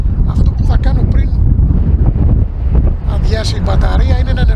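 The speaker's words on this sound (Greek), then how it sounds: "ο αέρας έχει γερές ρηπές" Strong gusty wind buffets the microphone outdoors, roaring loud and uneven throughout while someone talks, during the flight of a Heliway 913 model aircraft.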